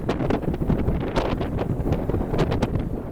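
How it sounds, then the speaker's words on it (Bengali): Strong wind batters the microphone aboard a ship heading into an Atlantic storm, a loud, gusty roar and rumble that surges and buffets unevenly throughout. "এত বাইরে প্রচণ্ড বাতাস যে দাঁড়িয়ে থাকা অনেক রিস্কি"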